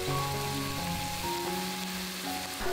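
Sliced button mushrooms and chopped cabbage sizzle steadily in a hot pan, a dense, even crackling hiss close by with faint low hum beneath and no voices.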